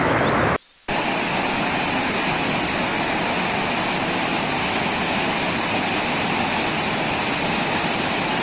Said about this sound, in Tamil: நாங்கள் பேசுனதை விட இந்த தண்ணி சவுண்டு வந்து கொஞ்சம் அதிகமாகவே இருந்து